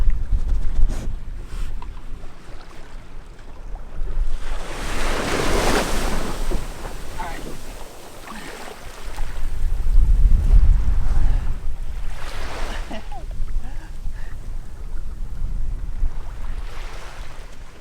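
Ocean surf washes onto a beach with a steep berm, broad rushing swells rising and falling near the shore, heavy wind buffeting the microphone throughout.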